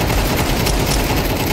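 Automatic gunfire from a shooter game hammers at an enemy in a dense, unbroken burst. It is loud and harsh, with no pauses between the shots.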